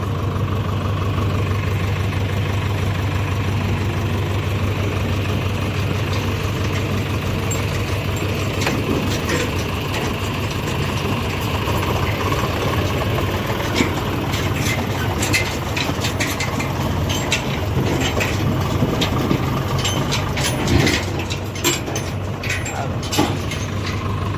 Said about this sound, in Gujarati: હવે ટ્રેક્ટરમાં ચાલુ છે